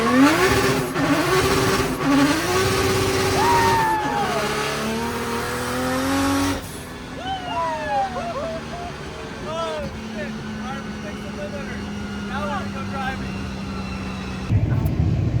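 A Nissan 370Z fitted with a GSR G Force dogbox transmission rips through the gears with loud rising engine revs and sharp shifts. After a drop in level the car keeps accelerating more distantly, with a voice heard over it.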